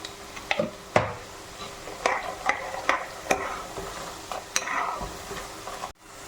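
Oil crackles and sizzles steadily as raw plantain fries, with scattered sharp pops and a few utensil scrapes and stirring clatters, fairly close.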